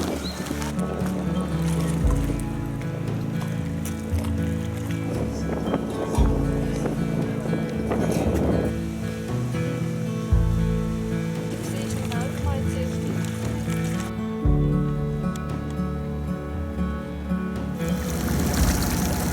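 A sailboat motors out of a bay on the Adriatic side of Mali Lošinj, Croatia, with a steady engine drone and wash of wind and water filling the clip throughout.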